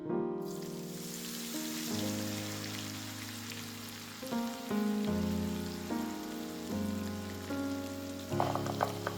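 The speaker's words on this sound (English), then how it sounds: "I pour in a good quantity of vegetable oil for frying and scoop out the beans into my oil." Steady crackling sizzle of beans frying in hot vegetable oil, heard alongside sustained musical tones that shift chords throughout.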